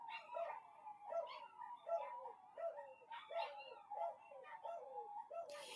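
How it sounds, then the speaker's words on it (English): Several dogs bark and yelp repeatedly at a distance, a rhythmic run of quiet, high barks with a few howling notes. "my dogs are barking"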